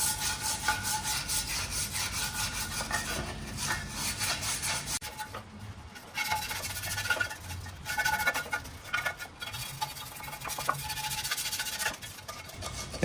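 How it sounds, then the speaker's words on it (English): A wire brush scrubbing a part from a 1937 Maytag Model 92 two-stroke engine in Dawn dish soap, making continuous fast raspy scratching with short pauses and no talking. "So I'm putting some Dawn dish soap in there and just taking a wire brush,"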